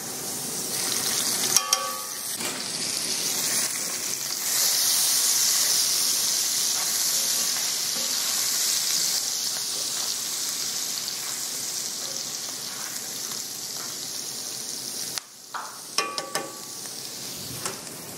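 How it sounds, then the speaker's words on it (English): Garlic sautés in a breakfast skillet with a steady, bright sizzling hiss that swells when stirred, with scraping and clinking of the utensil at the start and near the end, no talking. "After sautéing for a couple of minutes, you can go ahead and add your garlic now."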